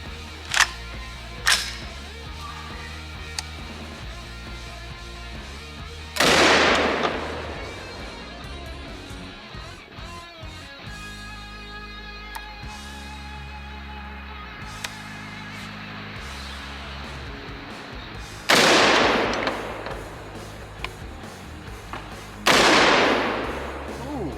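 12 gauge shotgun slugs strike a cast iron Peerless 2300 transmission outdoors, three loud sharp blasts spaced well apart, with quieter clicks and handling noise between them.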